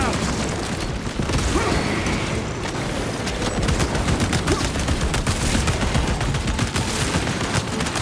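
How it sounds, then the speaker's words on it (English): A frag grenade in Warhammer 40K: Space Marine 2 goes off amid dense, continuous gunfire and booming combat noise, with faint voices mixed in throughout. "Frag grenade out."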